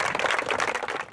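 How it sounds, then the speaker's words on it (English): Applause from an audience at a mental health awareness fundraising event, a dense, steady patter of many hands clapping close by and continuing without a break. "give her a round of applause"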